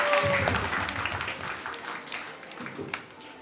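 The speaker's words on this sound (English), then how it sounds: "please welcome her with a round of applause" A crowd applauds steadily at a book launch, a dense wash of clapping that slowly fades, with a voice briefly audible underneath.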